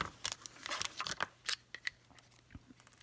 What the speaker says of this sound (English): So I'll cut like a couple inches off.